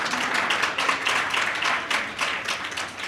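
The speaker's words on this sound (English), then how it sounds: "You can applaud" Audience applause after a presentation at a blockchain thought-leadership media event, a steady wash of many hands clapping throughout with no talk, fairly soft overall.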